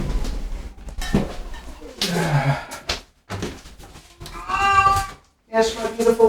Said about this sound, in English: I hear a cat shouting at me